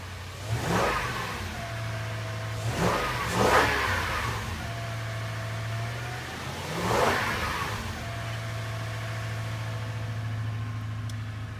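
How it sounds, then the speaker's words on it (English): A 2005 Toyota Tundra engine idles steadily outdoors, then revs up three times in distinct surges before settling back to a steady idle, loud and close with no talking. "I'll put the camera outside so you can hear it a little better."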